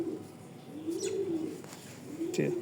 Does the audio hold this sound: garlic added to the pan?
no